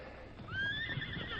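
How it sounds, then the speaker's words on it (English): Horse whinnies in a loud rising then falling neigh heard close and alone, with faint hoof movement underneath. "That other horse is making too much noise."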